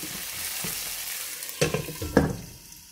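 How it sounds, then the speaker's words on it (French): Chopped onion sautés in a pan, cooking toward golden and translucent, with a steady close sizzle and a few louder stirring scrapes and clatters near the end. "je vais faire revenir jusqu'à avoir une couleur dorée et translucide de l'oignon"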